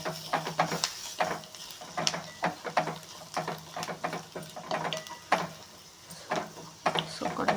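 Turmeric, cumin and chicken masala are stirred into a frying pan of meat, giving a steady scraping and clinking of a spoon against the pan over a soft sizzle, with no talk.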